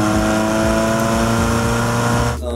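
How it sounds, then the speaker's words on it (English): Loud, steady engine exhaust drone with rising and falling harmonic tones, cutting off abruptly near the end. "it picks up the sound from the exhaust really nice."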